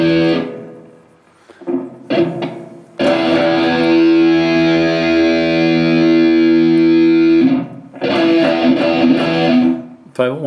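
A sustained instrument note rings out for several seconds, washed in reverb from the JamUp Pro app, with brief spoken passages before and after it.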